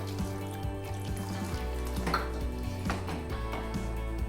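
Water is poured into a pot of rice for mint-coriander rice, about a quarter kilo of grain. It makes a continuous splashing, trickling flow close by, with faint clinks of the pot underneath.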